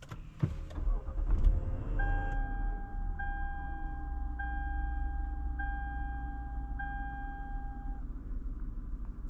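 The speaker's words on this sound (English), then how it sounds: "today we're going for a drive in this 2013 Lexus LX 460." Cabin of a 2013 Lexus LS 460 with a 4.6-liter V8 and 8-speed automatic: an engine start thump, then a low steady interior hum with a repeating electronic chime, no talking.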